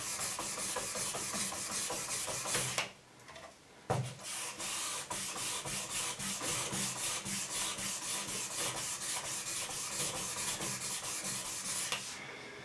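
A square, weighty paperweight-style piece is rubbed with fine 1000-grit sandpaper in quick, steady back-and-forth strokes, a close, raspy scratching that pauses briefly before resuming its rhythmic rhythm.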